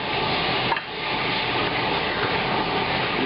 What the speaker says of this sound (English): Going to cook it like this and get that charred lamb fat